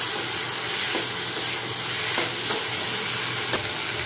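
Prawn curry being stirred in a pan as it finishes cooking, a steady close hiss and sizzle of simmering liquid with occasional soft clicks of the spoon against the pan. No voices.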